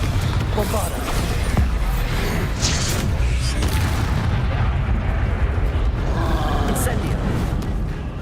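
Bombarda blasting spell from Hogwarts Legacy on PS5, a dense, continuous booming barrage of explosive impacts that stays loud for the whole stretch, with battle noise layered over it and a voice shouting spell names at the start.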